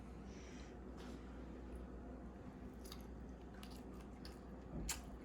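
Close chewing of a McDonald's Quarter Pounder with cheese that was frozen for a year, soft squishy bites and mastication over a steady low room hum, with a slightly louder crunch near the end.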